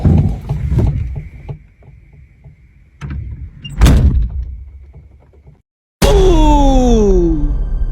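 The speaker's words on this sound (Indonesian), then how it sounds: "pintu camper van tiba-tiba terbuka dan tertutup sendiri" A camper van door opening and closing, with clunks and sliding rattles, a brief dropout, then a loud burst with descending whine-like squeals.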